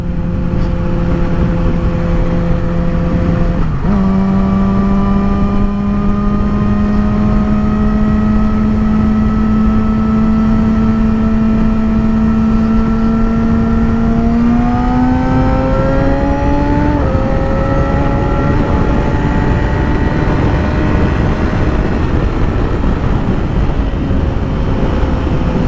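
Yamaha R6 600cc sport motorcycle engine while riding, a loud continuous drone with steady wind rush, pitch climbing gradually through gears with a couple of shifts.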